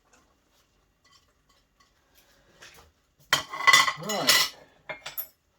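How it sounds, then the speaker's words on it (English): Utensils scrape and clink against a pan as pasta with tuna and French beans is stirred, a cluster of loud metallic stirring sounds over a couple of seconds after near silence, with a brief spoken word. "Stir up this pasta again."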